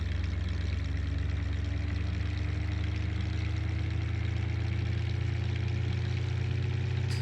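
A pickup truck in Farming Simulator 19 sits idling, its engine giving a steady, unchanging low rumble for several seconds, close and alone with no talk or other sounds.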